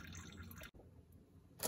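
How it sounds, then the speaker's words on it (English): Oil dripping from the filter being removed on a 2015 Toyota RAV4 during an oil change, faint close liquid trickle with a soft drip or two, no talking. "it is gonna drip a little bit of oil when you pull this off"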